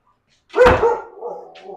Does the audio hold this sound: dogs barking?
yes